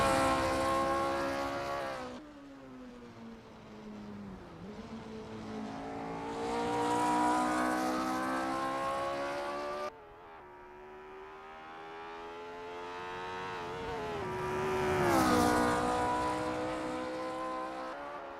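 A Lotus Type 25 race car in the Assetto Corsa sim at Kyalami, its engine loud and close, climbing in pitch through each gear before dropping at the shifts, with no talking.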